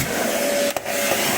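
A Hoover vacuum cleaner drones steadily up close, its motor whine dipping briefly for a moment mid-run before resuming, with no talking.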